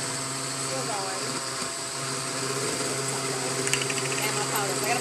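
A steady, low mechanical whir of a blender mixing a smoothie at low speed, continuous and droning with faint clatter, moderately close.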